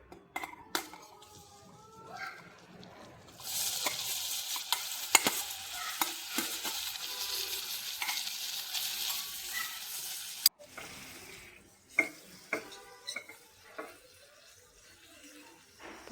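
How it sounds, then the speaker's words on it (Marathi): Paneer cubes frying in butter with Kashmiri chilli powder in a pan, with a bright sizzle that flares in the middle and scattered clinks and scrapes of a utensil before and after. "आणि पनीर त्याच्यामध्ये फ्राय करून घेऊया"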